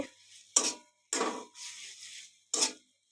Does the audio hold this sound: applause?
no